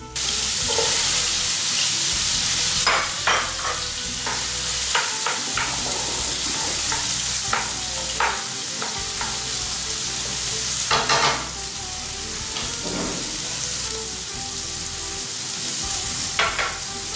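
Onions sizzle and fry in a sauté pan with garlic and ginger, a steady loud crackle broken by repeated scraping stirs and clinks of a utensil, with a brief splash of tap water near the end.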